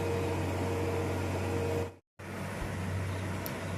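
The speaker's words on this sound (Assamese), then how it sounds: "মেচিনটোতে কাটিছে বোকা পানী কোনো কথা নাই" A harvesting machine cuts paddy in a waterlogged, muddy field, giving a steady, loud mechanical drone with engine hum that drops out for a moment partway through and then resumes.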